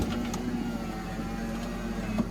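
A Honda CR-V power window motor runs steadily as the glass rolls down, a continuous low electric hum with a faint whine, heard alone and close.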